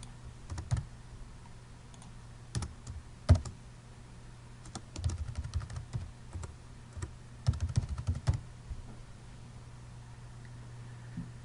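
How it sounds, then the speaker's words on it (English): Close keyboard typing comes in uneven bursts of quick clicks and clacks over a low steady hum, with short pauses as section headings are entered in a document. "So let's type in a few of our sections."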